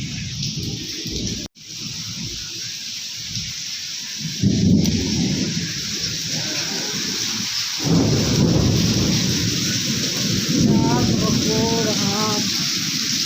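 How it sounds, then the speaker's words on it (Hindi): Thunderstorm with heavy rain pouring outdoors and loud rumbling thunder rolling in several bursts, close and dense, with a brief gap near the start. "बिजली चमक रही है, वो तो आप लोग को सुनाई दे ही रहा है।"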